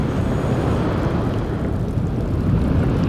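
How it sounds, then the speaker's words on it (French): Steady low rumble of volcanic gas escaping from the ground, a continuous roaring hiss with a wind-like texture, loud and unbroken throughout, with no voices. "Ça, Nidal, c'est le bruit de ce gaz qui sort de la Terre."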